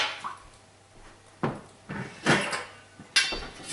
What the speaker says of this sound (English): The next step is we get the electric fry pan out.